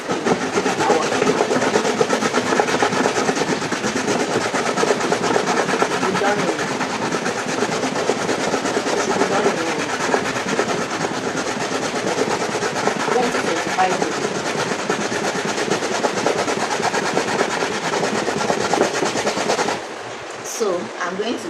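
Coconut being grated by hand on a grater, a dense continuous rasping scrape with rapid rhythmic strokes, loud and close, stopping abruptly near the end.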